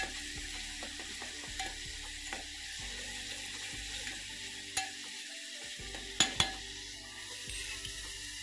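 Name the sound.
onions frying in a pan until soft and reddish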